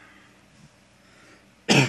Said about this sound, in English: Sorry for that cough there.